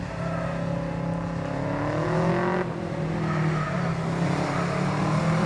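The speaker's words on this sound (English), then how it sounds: "Distinctive sound of these turbocharged Subarus." Turbocharged Subaru four-wheel-drive rally car at an Australian khanacross championship, its engine droning loudly and steadily with rising revs and a brief dip midway, close and continuous, with no talk over it.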